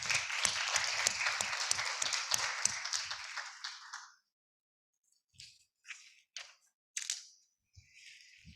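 An award ceremony audience applauds its recipients in a brisk burst of many hands for about four seconds, then it thins into a few scattered, quieter claps and taps.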